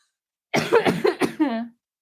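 A short burst of harsh, close coughing, several quick hacks in a row ending in a throaty rasp.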